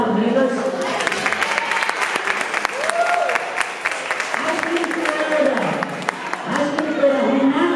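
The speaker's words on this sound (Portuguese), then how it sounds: "Juliana Lombardi, Bela Fonseca, vão ser aplaudidas." Audience applauding at a school culture event in honour of art therapists, steady dense clapping filling the room with voices mixed in over it throughout.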